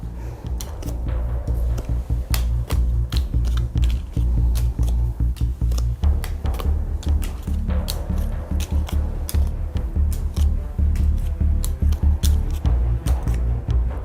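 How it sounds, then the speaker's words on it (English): Wyrmspan board game cards are dealt onto the central board, each one a sharp tap or light slap repeating in an irregular rhythm over a constant low hum. "We prepare the offer of cards, so we are dealing 3 cards of each type on the central board."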